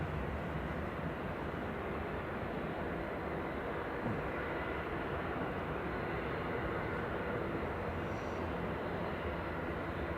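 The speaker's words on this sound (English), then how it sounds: "So we've got Jet2's LSAE pushing back" A Jet2 airliner pushes back at Manchester Airport, giving a steady, broad engine roar that holds constant and fairly loud for the whole stretch, with no voices over it.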